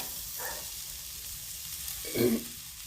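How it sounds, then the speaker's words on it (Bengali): Veg chow mein noodles fry in a pan, giving a soft steady sizzle with a faint stir near the start and a louder scrape of the spatula just after two seconds. "চাউটা দিয়ে আমি নাড়তে থাকবো। নাড়তে নাড়তে এটা যখন চাউটাও ভালোভাবে ভাজা হয়ে যাবে"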